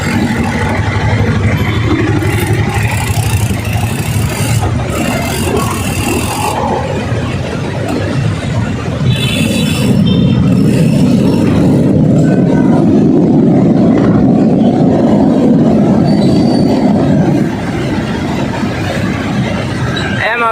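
An LRT train rumbles past at a station in Pasay, a sustained low roar building toward the middle and fading near the end, mixed with street traffic and engine noise.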